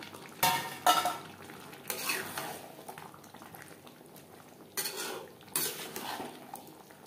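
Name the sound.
potato and jackfruit added to spices in pan, stirred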